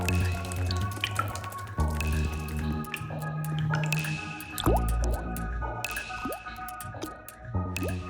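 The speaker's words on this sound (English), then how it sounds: "As the sun's heat melts the snow, water flows out through bizarre and beautiful ice caves." Snowmelt water dripping and trickling inside ice caves of a retreating snow mass: loud, close drips and plinks falling irregularly over a steady liquid gurgle, with no voices.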